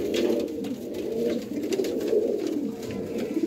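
Pigeons coo steadily in low, throaty murmurs, several birds overlapping close by with no talking.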